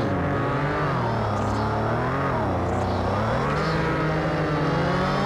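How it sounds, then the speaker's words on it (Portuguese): Lowered car drifting through a roundabout in an online racing game, manual gearbox, a loud, close engine whose pitch climbs and falls repeatedly with revs and gear changes, a constant roar throughout. "Agora eu consigo mandar um driftzinho, velho, com o câmbio manual"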